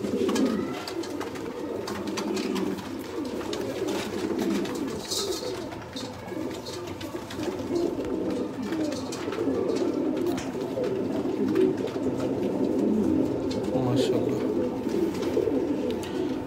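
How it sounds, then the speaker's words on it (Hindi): Sialkoti pigeons coo steadily, with soft repeated calls that overlap into a continuous murmur from close by. The birds are alone, with no talk over them. "ले दोस्तों बाकी ये आपके सामने है कबूतर माशाल्लाह"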